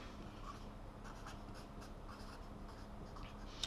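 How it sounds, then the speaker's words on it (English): A pen scratches out a note on a homemade circular saw guide, faint soft scribbling strokes in quick irregular bursts against a quiet room background. "I'm going to write down that it's for my Black & Decker Firestorm"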